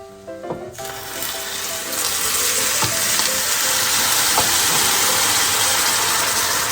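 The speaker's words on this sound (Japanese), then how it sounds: "お湯を入れます。 100cc。" Hot water, about 100cc, is poured into a pan of frying keema curry gyoza, setting off a loud, steady sizzle and hiss that swells after a brief clatter and continues without talk.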